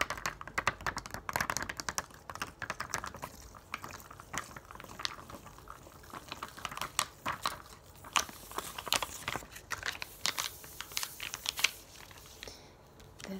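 Fingertips tap and click on pop-up dot stickers with silver backs, a quick irregular run of crisp, close, quiet taps with small pauses between bursts.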